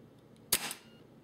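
A WE M1911 gas blowback airsoft pistol fires a single sharp snap with the clack of its cycling slide, close and brief, against a quiet room.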